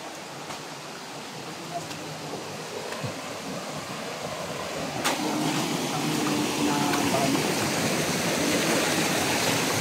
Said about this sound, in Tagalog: Oh my God, umulan.